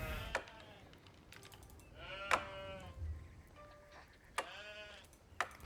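Several sheep bleat in turn in the video game Age of Empires IV, wavering cries over a steady background hum, with soft clicking between them.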